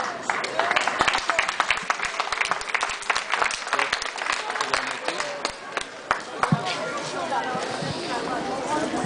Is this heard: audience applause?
yes